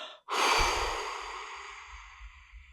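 A single long exhalation from people doing a guided breathing exercise, starting abruptly after a brief pause, breathy and fairly close, slowly fading over a couple of seconds with no talk.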